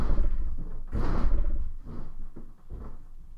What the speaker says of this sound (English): What is knocking on my front door?